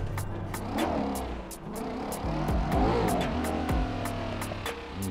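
A car being driven in GTA 5 roars under the engine as it revs and accelerates, with tire squeals and skidding rising and falling across several seconds, alongside a repeating sharp ticking.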